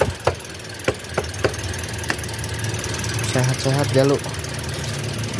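A car engine idles with the clutch pressed after driving through floodwater. A steady hum carries scattered sharp ticks and a brief squealing whine, and a person speaks briefly over it.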